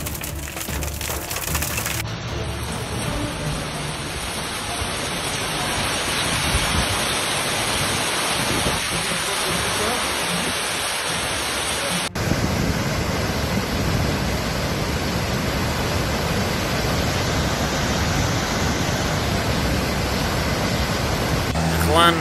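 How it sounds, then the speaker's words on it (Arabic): Rare May hailstorm in Jordan, hailstones pelting a car with a dense, loud, unbroken rattle and hiss that carries on for the full twenty-odd seconds. "سامعين صوت الحجار؟ طلع هاي برد"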